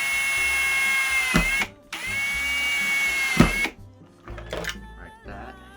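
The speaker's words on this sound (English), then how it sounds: "Just drill a nice hole." A power drill bores a hole into a Gemmy 2019/2020 Snowflake Spinner Snowman Raver decoration in two close whirring bursts with a short pause between, followed by a few clicks and rattles of plastic parts.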